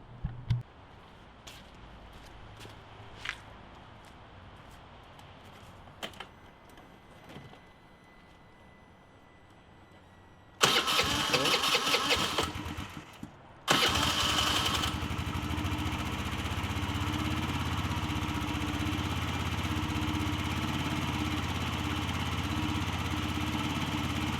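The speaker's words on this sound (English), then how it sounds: "Okay, let's start the engine" A Kymco Agility 16+ 50cc scooter sits quietly amid faint ticks before a loud burst of cranking, a short pause, then the small engine catches and settles into a steady, close idle that runs on alone.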